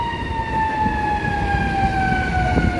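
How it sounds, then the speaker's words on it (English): An ambulance siren wails on a busy Chicago street, its steady tone holding over the constant hum of city traffic and passing vehicles, loud and fairly close. "Here comes the ambulance."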